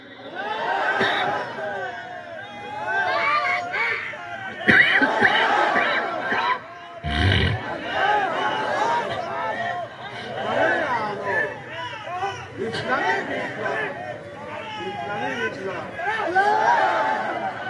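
A large crowd at an Islamic sermon gathering (waz mahfil) in a Chuadanga village shouts the takbir, Allahu Akbar, in repeated swelling waves of many voices, loud and continuous, mixed with chatter and a brief laugh.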